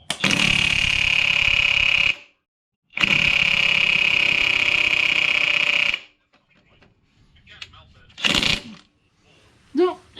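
A DeWalt DCF899 impact wrench hammers loud and close against a stubborn bolt that is starting to round off, in two sustained bursts of rapid rattling, then quieter handling noises and a brief final burst.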